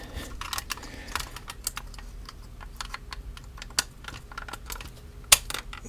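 A FansToys Scoria figure's plastic legs click and clack through several small sharp snaps as they fold down and clip into place, with one louder click near the end against a quiet background.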